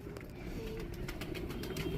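A Salara pigeon, a border line breed, coos softly at close range, a low steady murmur with a faint high squeak, and no voices over it.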